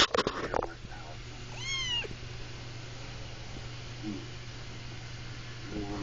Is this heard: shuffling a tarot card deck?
no